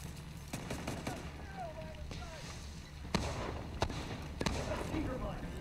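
Gunfire in The Division 2, a handful of separate sharp shots spaced apart and rising louder toward the end, heard over game noise and a talking player.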